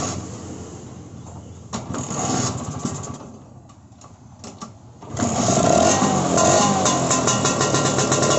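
A small motorcycle engine with a carburetor cranks and sputters, then catches and settles into a loud, rapid idle with a buzzing, close-up note.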